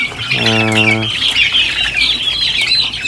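Chicks chirp continuously on a farm, a dense, steady chorus of high peeping close by, with a brief low harmonic call from an older fowl near the start.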